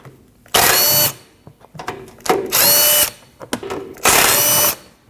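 A power drill spins out 12mm bolts from the front cover of a Nissan NV2500 van in three loud, sharp bursts of about half a second to a second each, separated by quieter clicks and handling noises.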